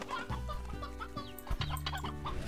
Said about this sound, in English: I need to get a couple of these stony hens in here.